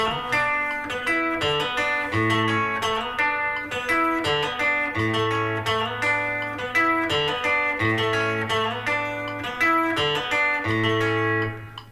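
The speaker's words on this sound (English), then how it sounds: "So this is a 62 Tele going through a 1967 Princeton reverb." Clean electric guitar, a 1962 Telecaster through a 1967 Princeton Reverb tube amp with warm tone, plays a steady rhythmic chord pattern, bass notes alternating under bright upper strums, for about twelve seconds without talk.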